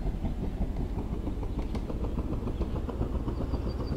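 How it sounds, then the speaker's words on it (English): A coaxial rotor helicopter in Homebrew Vehicle Sandbox spins its rotors up, giving a low rhythmic thumping drone with a rattling pulse, steady and close, with no talk over it. "let's go ahead and start ramping it up and see at what RPM we can actually take off"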